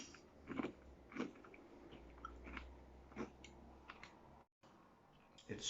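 A person bites and chews a frozen banana treat, giving a few crisp crunches spaced a second or two apart over a low steady background hum, with a brief dropout near the end.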